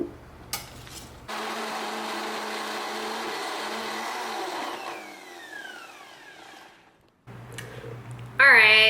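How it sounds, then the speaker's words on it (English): A blender whirs loudly for several seconds, its motor pitch shifting as it purees steamed vegetables, then winds down and stops before brief clattering resumes. "my veggies are steamed and they're gonna go into the blender"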